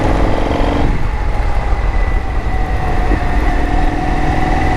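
An Indian FTR motorcycle fitted with an RSD Super Hooligan setup runs under way, its engine note a loud continuous drone that steps down in pitch partway through, with rushing wind close around it.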